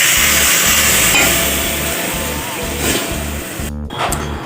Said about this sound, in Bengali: ওদিকে মাছের ঝোলটা ফুটছে